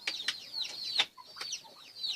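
A turkey kept as a backyard pet gives rapid, repeated sharp clucks and chirps, close by and fairly clear with no talking.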